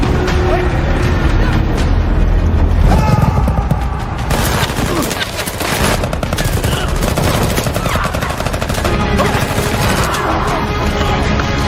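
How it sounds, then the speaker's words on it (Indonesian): Gunfire exchange between a rescue team and cartel forces in a film scene: dense, loud bursts of automatic fire and single shots overlapping continuously, with a brief lull midway before the shooting resumes. "Di saat para tim penyelamat serta pasukan Barbosa saling baku tembak"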